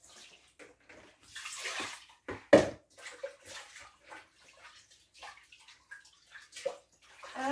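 A pot is scrubbed and washed with water at a kitchen sink, with soft intermittent sloshing, rubbing and splashing, quiet and close, in uneven bursts without clear speech.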